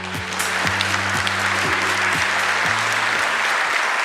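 Audience at a Korean government policy briefing applauds steadily and loudly throughout, a dense wash of clapping with a low sustained tone humming underneath.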